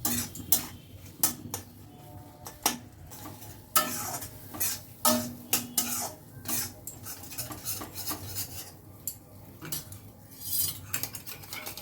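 A spatula or spoon scrapes and knocks against a pan while a spice masala with chilli powder is stirred and sautéed for a spinach dish. The clatter comes in irregular bursts over a faint, low sizzle, with no talking.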